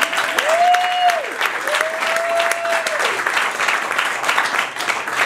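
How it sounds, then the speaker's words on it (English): Audience applause at a political rally in support of Hillary Clinton for President, a dense steady wash of clapping from a large crowd throughout, with a few whistles sounding over it. "So give yourself a round of applause."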